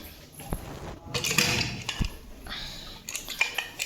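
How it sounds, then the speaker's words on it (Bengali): A metal lid set onto a pressure cooker pot in a home kitchen, giving a few sharp clinks and scraping metallic knocks close by, with no talking. "ব্যাস ঢাকনাটা দিয়ে দিলাম।"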